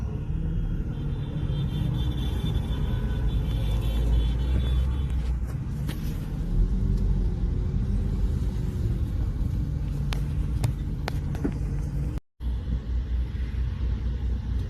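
A truck engine rumbles low and steady along a road, a continuous heavy drone that holds for the whole stretch with a brief drop near the end and no voices.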